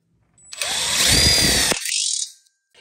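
A power drill drives a screw into an outdoor kitchen corner module built with ConnecTubes, one short close whirring burst that rises and cuts off, followed by a brief ringing tail.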